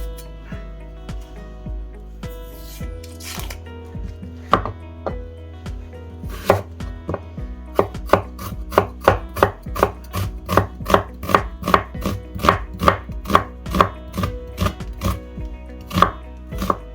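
A knife finely slicing a small onion on a cutting board, starting with a few scattered cuts and then settling into a steady, rapid rhythm of crisp chops, close and clear with no talking.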